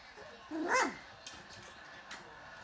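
A small lap dog lets out one sharp, high bark up close, followed by a couple of faint, brief yips in a quiet room.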